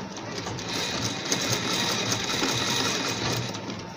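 A sewing machine stitches bias binding onto a neckline in one continuous, close, steady mechanical hum at an even pace, with no speech over it.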